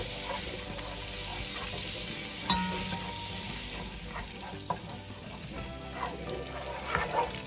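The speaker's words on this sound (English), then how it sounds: "Half a cup of butter in the pan. We'll let this melt down." Half a cup of butter melting in a hot pan for baked mac and cheese, giving a soft steady sizzle and crackle with a few brief clicks, close by, with no talking.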